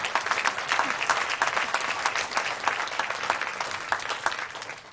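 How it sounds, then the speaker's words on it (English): Students at a talk applaud together, a dense steady clapping from many hands that lasts the whole time with no voices above it. "Give yourselves a round of applause."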